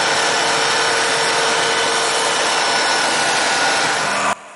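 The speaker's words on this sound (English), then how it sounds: "When you're sanding timber" Continuous close abrasive rubbing of sandpaper on timber by hand, steady and loud for several seconds before stopping abruptly.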